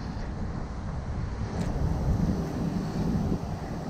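Loud sea waves wash onto a lonely beach in a steady, rumbling roar, with heavy wind buffeting the microphone throughout.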